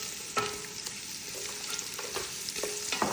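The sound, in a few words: sliced carrots and onion frying in a pan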